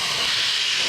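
Primer sprayed onto a wood lathe part makes a continuous, loud, close hiss from an aerosol or spray gun, steady through the whole short burst with no voices.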